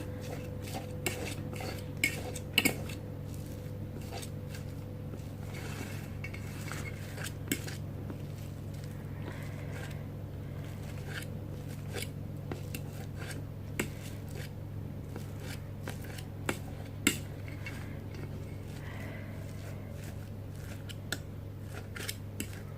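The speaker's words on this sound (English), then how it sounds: "You gotta mash the egg whites really well" Cooked egg whites being mashed in a bowl, an uneven run of light clinks, taps and soft scraping of utensil against the bowl, fairly quiet and close, repeating throughout.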